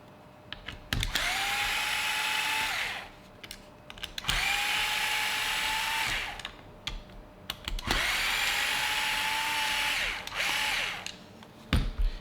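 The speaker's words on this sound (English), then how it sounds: "you're gonna have to take off these 3 screws, the top deck." Power driver running in three long bursts to remove the top deck screws on a Team Associated B7 RC buggy, a steady whirring whine with short pauses between screws, close up.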